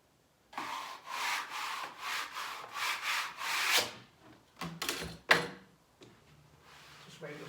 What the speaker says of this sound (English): Just wipe the paste off that.